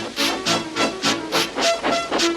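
Rhythmic bursts of steam hiss and chuffing from a steam locomotive in a Trainz simulator, about five regular puffs, loud and close, with no talk.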